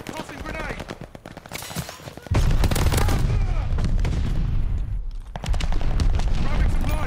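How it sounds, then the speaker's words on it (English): A grenade blast and heavy gunfire in Call of Duty Vanguard: rapid shots and bursts ring out, then a loud boom drops in with a deep rumble, followed by continuous close automatic fire and shouted voices. "Tossing grenade!"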